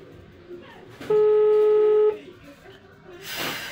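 An outgoing phone call rings once: a single steady electronic tone holds for about a second amid faint room noise and quiet voices, then a burst of hiss follows.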